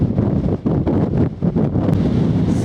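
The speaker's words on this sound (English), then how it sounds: "Incredibly windy, as predicted" Strong gusty wind on an open South Downs ridge walk, heavy buffeting roar against the microphone pulsing in loud surges throughout, no talk.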